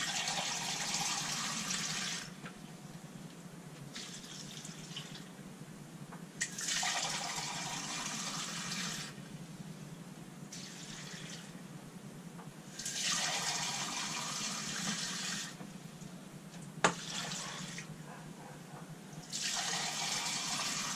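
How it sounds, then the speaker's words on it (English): A kitchen tap runs water into a pan for jelly-making, a steady hissing splash that comes in several long bursts separated by quieter pauses, close and fairly loud, with no talking. "Okay, so let's get some water in there."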